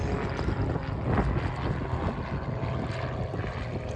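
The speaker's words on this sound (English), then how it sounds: "the Tutor is a really quite light aircraft" An RAF Grob Tutor light propeller aircraft performs at an air show flying display, its engine a steady, moderately loud buzzing drone that carries on throughout.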